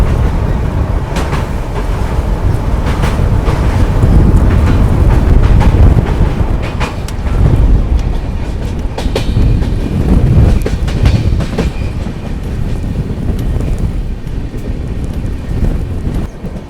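The 12650 Karnataka Sampark Kranti Express rolls along the rails, a loud continuous rumble with repeated clickety-clack wheel beats and wind rushing past, heard close up and without talk.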